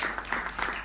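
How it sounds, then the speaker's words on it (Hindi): Audience applause welcoming a poet at a Hindi comedy poetry gathering (hasya kavi sammelan): a brief, dense wash of clapping from a crowd, steady and fairly loud throughout. "जोरदार तालियां बजाए"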